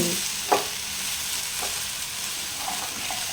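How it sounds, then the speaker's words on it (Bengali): Bottle gourd with spices and chana dal fries in a pan under a steady, soft sizzle, with a sharp scrape of a spoon stirring near the start and a few lighter stirring knocks later, with no talk. "এরপর তুমি হালকা হালকা করে নাড়ছো মশলাটা যাতে পুরোটা লাউয়ের মধ্যে"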